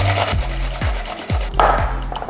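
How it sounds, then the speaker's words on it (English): Potatoes rubbed against a kitchen grater for vegetable pakora, a steady run of rasping strokes in a regular rhythm, close and fairly loud with no talking. "Next we will grate our potatoes."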